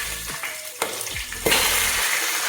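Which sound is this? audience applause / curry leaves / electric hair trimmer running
curry leaves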